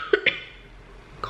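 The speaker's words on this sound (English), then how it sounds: "Coughing hurts my stomach." A person with a sore throat coughs a few short, close, dry times in quick succession, then once more after a pause.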